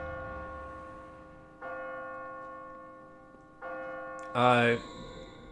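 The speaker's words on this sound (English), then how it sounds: "Let's ring the bell." A bell rung in the video game Kingdoms of Amalur, sounding two sustained ringing tones a couple of seconds apart, then a brighter, louder clang near the end, with no talk over it.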